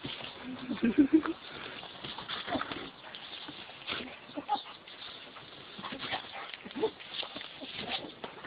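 Dog whimpering and giving a few barks, soft, uneven yelps and whines scattered through the clip at a moderate distance, with faint background noise.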